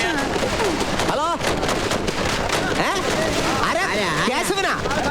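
Firecrackers bursting at a festive celebration, a dense, continuous crackle of pops and bangs mixed with shouting voices and rising-and-falling tones throughout.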